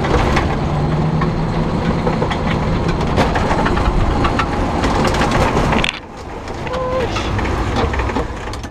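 An Organic Transit ELF velomobile accelerating at full power on flat ground, a loud continuous rumble of motor and road noise that dips briefly partway through, then builds back up.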